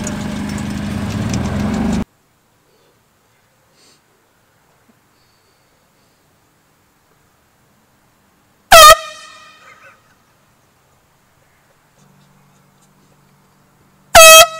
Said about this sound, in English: you're blowing air horns